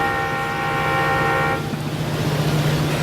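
A train horn sounds one long, steady, loud blast, then cuts off, leaving a low rumbling hum behind.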